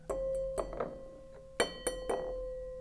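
Seemingly identical drinking glasses are struck one after another, giving several clear ringing clinks with slightly different pitches, close and bright, each note decaying over a steady faint hum.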